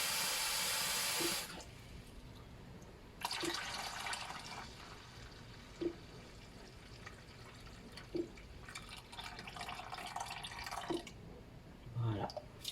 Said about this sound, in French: donc on rajoute de l'eau.